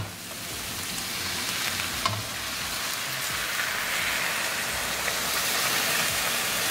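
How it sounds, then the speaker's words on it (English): Grated carrots for gajar ka halwa cook on high gas while being stirred, giving a dense, continuous hissing sizzle like steady rain that holds even and close throughout, with no voices. "On high gas, keep stirring and keep cooking."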